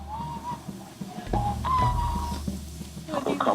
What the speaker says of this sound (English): Mr. Reese whistles nervously as time passes.